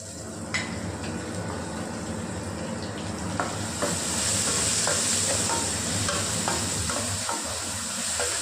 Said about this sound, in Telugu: ఎర్రగడ్డలు కూడా బాగా వేగాయి